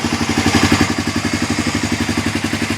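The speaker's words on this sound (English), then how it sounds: "If anyone's ever had a Honda Fourtrax 300, you'll recognize that sound. They just fire right up." A Honda Fourtrax 300 ATV engine running right after start-up, a steady mid-pitched single-cylinder putter with an even, rapid pulse, close and fairly loud with no talking.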